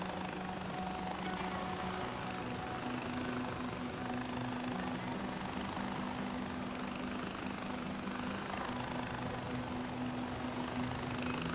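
A steady whirring helicopter rotor drone in the video game Far Cry 4 fills the whole stretch, constant and fairly faint, with no talking over it.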